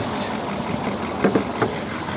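A 2008 VW Cross Polo's 1.6 petrol 16-valve engine idles with a steady, even hum and faint rhythmic knocking, a couple of slightly louder pulses partway through.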